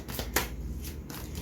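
Tarot cards being shuffled by hand, a close, quiet riffling with soft flicks and one sharper snap of cards, no talking.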